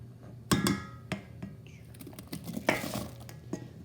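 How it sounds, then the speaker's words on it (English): Diced apples scraped from a board into apple waffle batter with a spatula, a few sharp scraping and tapping knocks against a bowl, close and quiet, with soft clatter between. "Lincoln, you want to brush those in with your spatula?"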